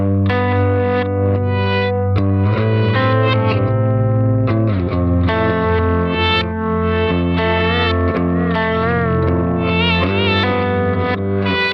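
Heavily processed, distorted music mix run through a Texturizer effect, with shifting, warbling harmonic textures and swirling echoes, loud and continuous with no voices.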